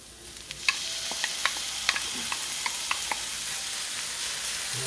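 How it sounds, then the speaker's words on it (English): Ground beef sizzles in a hot pan with a steady hiss, punctuated by a run of light, evenly spaced clicks and taps of a utensil working the meat, close up and without talk. "I'm going to throw in the beef."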